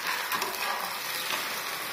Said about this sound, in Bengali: সিম্পল ডিম ভাজা